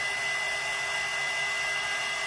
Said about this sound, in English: I'm going to go ahead and hit this with the dryer